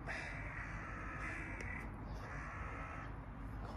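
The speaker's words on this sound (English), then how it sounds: "Crows in the morning are ridiculous." Two harsh caws from crows ring out in the distance over a steady low outdoor rumble, spaced a second or so apart, in the morning at a farm.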